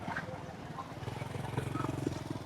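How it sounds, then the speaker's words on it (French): Motorbikes pass through a Vietnamese market, a low, pulsing engine putter nearby and moderately quiet amid background market bustle. "les gens traversent en moto"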